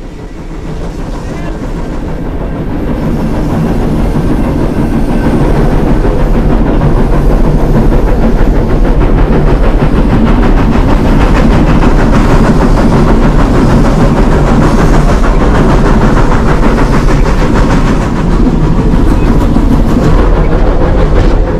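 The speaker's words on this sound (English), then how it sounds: "Scott as we ride from Hermosa to Rockwood on the deck plate of the 41" Cab ride aboard Ghost Town and Calico steam locomotive #41 between Hermosa and Rockwood in Colorado, with a loud, steady rumble and rhythmic clatter of wheels on rail plus wind noise, building up over the first few seconds and continuing throughout.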